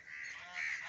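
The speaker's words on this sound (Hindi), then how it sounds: "कश्ती के साथ बतखें भी हैं, लगता है ये हमें काटने की कोशिश कर रही हैं" Ducks on the Indus River beside a boat give a sustained, fairly faint honking call that swells louder near the end of the short burst.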